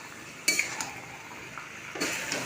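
Fried jackfruit and potato pieces are stirred into a spice masala in a pan, with a few distinct metallic clinks and scrapes of a utensil over a soft background sizzle, near and fairly quiet.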